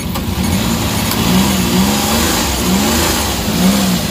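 A Suzuki DA64/DA63 mini van's K6A engine runs close up, idling with a rough, wavering hum that swells and dips unevenly from a vibration fault, and nobody speaks.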